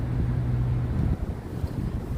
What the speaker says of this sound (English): it's ferociously windy